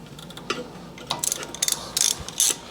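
A ratchet wrench loosens a bolt on a 1995 Harley-Davidson Softail motorcycle, giving several short bursts of close, crisp clicking over a low background hum.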